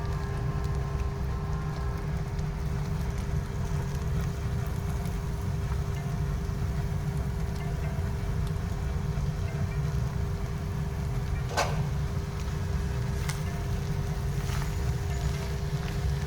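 Pieces of water lily stems fry in hot oil, giving a steady, dense sizzle that holds without break, with a faint constant hum beneath.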